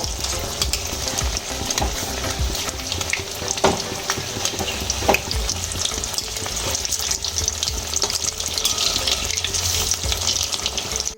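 Lote (Bombay duck) fish chops, battered, frying in hot refined oil: a steady close sizzle runs throughout, with scattered clinks and scrapes as pieces are turned.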